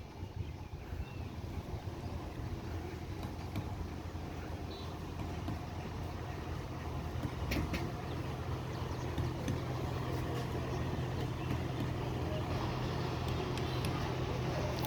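A small river passenger launch leaving Kalaiya for Bhola in Bauphal, Patuakhali, Bangladesh, its steady engine drone continuous and close, mixed with wind buffeting on the microphone.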